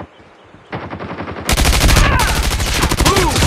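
Loud bursts of automatic gunfire and gunshots in the Call of Duty video game during a bomb objective match, building from a quieter start into a dense, continuous barrage.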